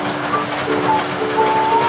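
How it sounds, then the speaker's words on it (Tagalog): Heavy rain falls in a steady, dense hiss that runs unbroken through the whole stretch, with a faint tonal hum underneath. "sobrang lakas ng ulan, hindi na tumigil."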